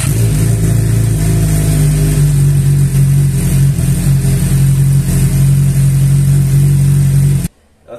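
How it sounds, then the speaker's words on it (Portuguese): Suzuki SRAD 750 motorcycle fitted with a CS Hansen exhaust roars loudly and close, its engine held at a strong steady rev with slight fluctuations before cutting off abruptly near the end. "Essa moto ela está equipada com o escapamento CS Hansen. É um escapamento bonito, faz um ronco muito legal,"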